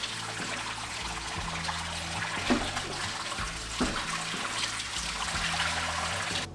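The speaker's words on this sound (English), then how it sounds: "It's time to drain off that hot water." Hot water drains out of a cooler used for resting ribs, a steady trickling and gurgling flow at close range with a couple of brief splashy surges, no talk.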